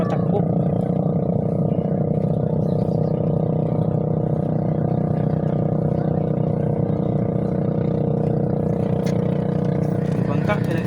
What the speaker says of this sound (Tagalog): May bangka, hilahin. Malakas mapatakbo.